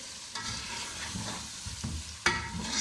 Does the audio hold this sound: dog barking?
no